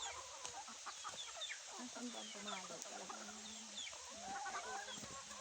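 Labuyo wild junglefowl clucking in a yard, with repeated clucks and chirpy calls over a busy outdoor background and other fowl sounds nearby; moderately faint and steady throughout.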